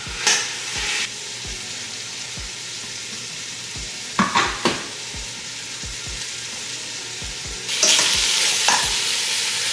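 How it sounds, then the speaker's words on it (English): Ground beef browning in a pan for chili, a steady sizzle broken by sharp clanks and scrapes of a utensil breaking up the meat, with louder bursts of crackling frying at intervals; no talking. "I'm going to start browning this ground beef."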